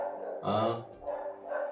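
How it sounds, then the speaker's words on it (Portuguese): Dogs bark somewhere in the background, giving a few short bursts of barking spread over a couple of seconds, moderately distant and fairly quiet. "Hoje os cachorros estão gritando"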